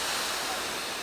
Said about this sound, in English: And then we've got the cone setting, which is your last one before we return back to the shower.